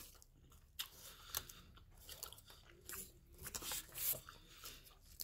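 Someone chewing buffalo beef jerky with chipotle, close and quiet, with irregular crunchy bites and wet squishy chews spaced unevenly through a soft background.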